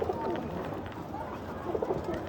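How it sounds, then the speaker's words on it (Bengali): A loft of old-breed pigeons coos close by, soft throaty rolling calls overlapping in a steady murmur for a couple of seconds. "এই যে এদিকে আমার পুরান জাতের বুড়া জাতের কবুতর নটটা"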